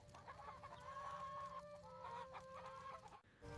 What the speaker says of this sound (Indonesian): Ayam-ayam dibangunkan, berkokok padahal malam belum selesai.